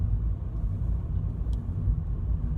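A learner car creeps along at about 10 miles an hour in second gear, its engine a low, steady rumble with road noise and no talking.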